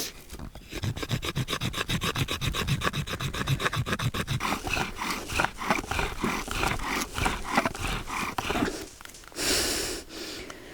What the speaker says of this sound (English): you want to make very fine shavings from dry wood, like this one here